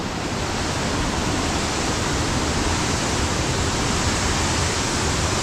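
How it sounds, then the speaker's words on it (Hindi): Waterfall in Aizawl with water dropping through a cut in the rock, a steady, loud broadband roar that continues unbroken throughout with no talk. "ये रहा वाटरफॉल। वाह, लेकिन गिर रहा काफ़ी अच्छा, पत्थर कटा हुआ उसका बीच से गिर रहा"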